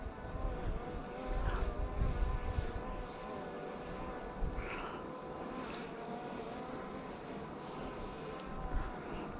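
A drone hovers and flies over open land, its steady motor whine and broad airy noise continuing throughout at moderate, even loudness with slight wind buffeting and no talk.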